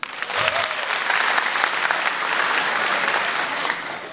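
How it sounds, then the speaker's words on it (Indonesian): Loud burst of applause from a stand-up comedy audience, steady clapping for a few seconds that tapers slightly at the end. "yang masih aktif pakai Facebook boleh tepuk tangan"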